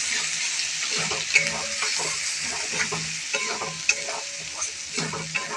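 Prawns for biryani frying in a pan with Kashmiri chili powder and turmeric, giving a steady close sizzle with soft stirring scrapes and a few sharper clinks, no voices.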